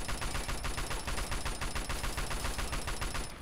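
Rapid, sustained automatic gunfire in the video game Fallout 3, a dense, steady rattle of shots continuing nonstop with even loudness from start to finish.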